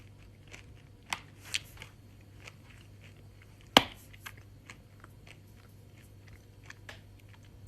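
Quiet crunchy chewing of a dried anchovy and almond snack, scattered soft bites with one sharp crunch partway through, close and faint, no talk.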